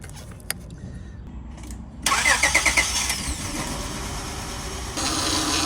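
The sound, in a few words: Acura engine starting, with power steering whine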